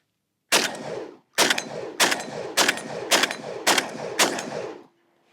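Beretta 1301 Tactical semi-automatic shotgun firing Fiocchi low-recoil home-defense buckshot, seven loud close blasts in a quick, fairly even string, each with a short ringing decay, then silence.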